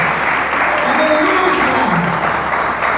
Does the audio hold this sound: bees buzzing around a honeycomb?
no